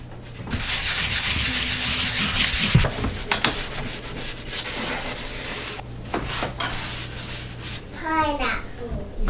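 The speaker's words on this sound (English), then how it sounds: "just gonna use this little sanding block to hit the cabinets." Steady, dry rasping of a sanding block scrubbing back and forth over wooden kitchen cabinets, continuous and close, with a few brief knocks and a voice near the end.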